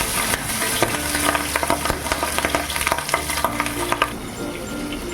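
Pabda fish frying in oil in a pan, a loud close sizzle with sharp crackles and spatters scattered across it, then easing toward the end.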